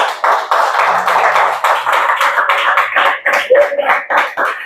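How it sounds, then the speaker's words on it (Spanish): A church congregation claps rhythmically for the Lord, with loud, steady, closely spaced handclaps and voices mixed in throughout. "Dale palmas al Señor"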